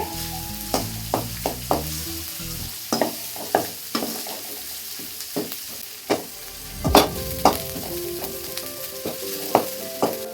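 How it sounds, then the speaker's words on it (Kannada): Ginger garlic paste frying in a pan for a red fish curry, with a steady sizzle punctuated by sharp clinks and scrapes of a spoon stirring at an irregular rhythm, close and fairly loud, no voices. "ಮಧ್ಯದಲ್ಲಿ ಜಿಂಜರ್ ಗಾರ್ಲಿಕ್ ಪೇಸ್ಟ್ ಮಾತ್ರ ಫ್ರೈ ಮಾಡ್ತಾ ಇದ್ದೀನಿ ನೋಡಿ"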